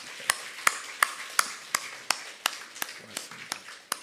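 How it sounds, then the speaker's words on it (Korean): A small church congregation claps for the choir in a slow, steady rhythm of about a dozen distinct, fairly close claps, with no talking in between. "우리 찬양대 감사의 마음으로 박수 한 번 더 하실까요?"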